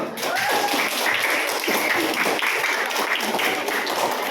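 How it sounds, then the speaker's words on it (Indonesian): Applause from a classroom of students after a group presents its poster on tolerance, steady dense clapping lasting the whole span with some voices underneath. "Jika ada pertanyaan, tepuk tangan dulu."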